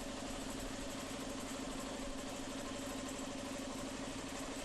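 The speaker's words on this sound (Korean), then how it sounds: "천연가스 차량과 디젤 차량의 엔진을 가동시켜 배기가스 성분을 실시간 분석해봤다." Natural gas and diesel vehicle engines run steadily at idle during an exhaust emissions test, a constant mid-pitched drone with no pauses or changes in revs.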